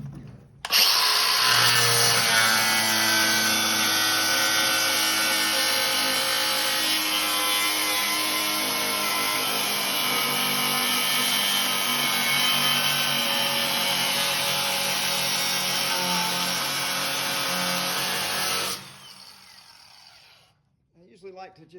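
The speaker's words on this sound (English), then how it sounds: "I'll just take this grinder and go right across the top line." An angle grinder cutting across the top line of the frame on a 1979 Chevrolet Silverado truck, a loud, steady high whine held close for about eighteen seconds before spinning down.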